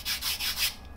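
A bare finger rubs briskly back and forth over a sanded polyurethane foam sculpture, making four quick, close, breathy scraping strokes in steady rhythm before fading, with no talking.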